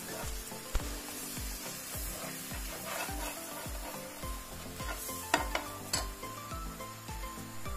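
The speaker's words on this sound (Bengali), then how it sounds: "আমি নেড়েচেড়ে দিচ্ছি।" Rice pudding (payesh) being stirred in a pan, giving a steady run of scraping, rubbing strokes with a light sizzle, punctuated by a few sharp knocks of the spoon against the pan.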